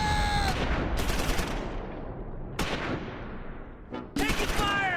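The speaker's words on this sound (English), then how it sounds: "Taking fire! Take cover!" Bursts of gunfire from the Close Combat 4 wargame's Battle of the Bulge fighting crackle in several sharp volleys, with quieter spells between and a sharp shot near the end.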